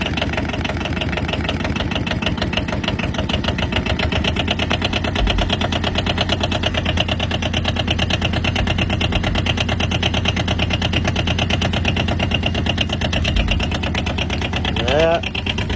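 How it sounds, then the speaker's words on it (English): A small Polaris diesel engine idles steadily in the cold while warming up, a continuous loud chugging drone that barely changes, with people talking over it. "Turn out the throttle to warm her up."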